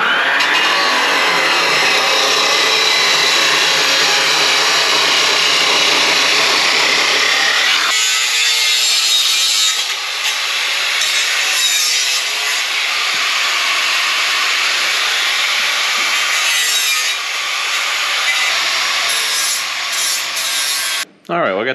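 Metal piece for an old John Deere tractor muffler being cut in a shop, a loud, continuous harsh grinding rasp close up for about twenty seconds, shifting slightly in tone midway, with no talk over it.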